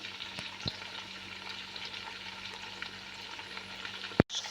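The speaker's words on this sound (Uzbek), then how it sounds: "Kartoshkani solib qovuramiz." Potatoes fry in oil in a pan with meat and onions: a soft, steady sizzle throughout, with a sharp clank near the end.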